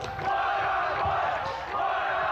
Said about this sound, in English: Look at the crowd is chanting one-on-one.